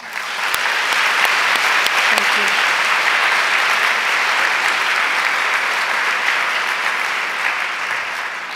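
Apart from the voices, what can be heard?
audience applause for the committee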